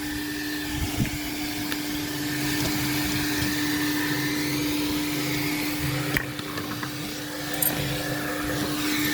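A coin-operated car wash vacuum cleaner runs steadily throughout with a constant droning whine and hiss, loud and close, with a couple of brief knocks against the hose.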